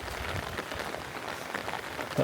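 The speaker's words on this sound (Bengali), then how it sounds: "এই পরিমাণ বৃষ্টি দিছে যে অনবরত পড়তেই আছে" Steady heavy rain pours down over a village cauliflower field, a dense even hiss of drops striking surfaces, close and unbroken, with a louder burst of spatter at the very end.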